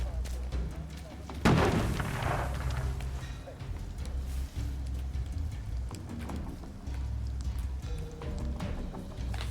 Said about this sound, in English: They're bombing us again!